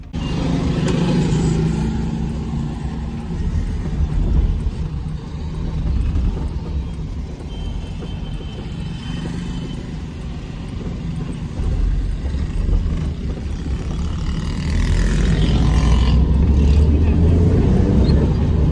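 Car engine rumbling steadily on a test drive after a fix, low droning road and engine noise throughout with swells of revving, and voices talking over it at times.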